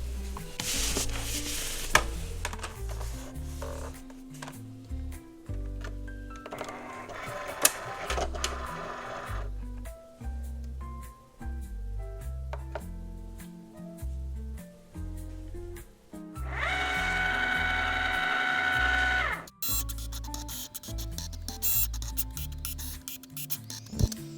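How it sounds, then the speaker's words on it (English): A Cricut Explore Air 2 cutting machine slices sticker paper with whirring carriage movements and stepping motor buzzes, mid-level and continuous. Background music plays underneath, and one louder, denser motor stretch runs near the end. "So I'm going to put it on the Cricut and cut it."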